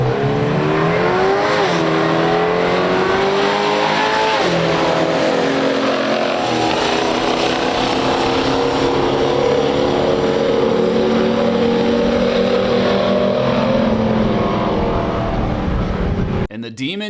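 A 1970 Chevelle SS and a 1972 Dodge Demon drag race side by side, their engines roaring loud and close as they accelerate hard down the strip, rising in pitch with a brief drop mid-run, then cutting off near the end.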